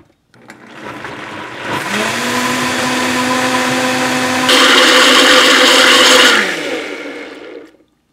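A countertop blender whirs through frozen mango for a dairy-free mango lassi, starting up, running steadily and loudly, then pitching up to a higher speed before winding down near the end.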